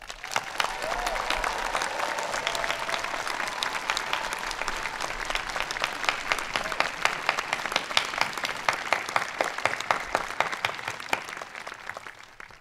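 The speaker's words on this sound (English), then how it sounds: "we recognize all members of the Williams faculty and staff with our applause" A large commencement audience at Williams applauds faculty and staff, with sustained, dense clapping that holds steady and then fades slightly near the end.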